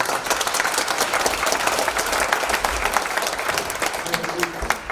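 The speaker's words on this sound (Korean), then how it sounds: "우리 다시 한번 박수 한번 하겠습니다" A church congregation applauds a singer at a memorial service for the 70th anniversary of Pastor Son Yang-won's martyrdom, a full, steady round of clapping from a sizeable crowd that carries on for several seconds.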